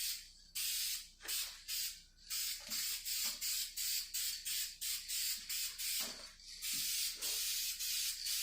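Spray paint hissing onto engine parts of a 5.3 engine in light coats, a rapid series of short close bursts with brief gaps, rising to longer sprays near the end.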